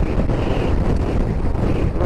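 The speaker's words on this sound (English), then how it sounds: "Jesus, windy." Strong coastal wind buffets the microphone on the road to John O'Groats in northern Scotland, a loud continuous roar with gusting rumble and no talk.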